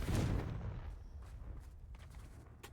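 Spell-casting effects from the Hogwarts Legacy video game: a loud, rumbling blast opens the clip and trails off into a few scattered, fainter bursts, with no speech heard.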